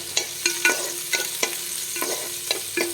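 Ginger and onion frying in a pan, a steady sizzle broken by sharp, regular clacks and scrapes of a spatula against the pan, roughly two strokes a second, close and without talk.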